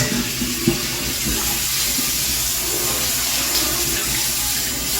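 Hot tap water runs steadily for washing dishes in a home kitchen, a continuous close splashing rush with no talk over it.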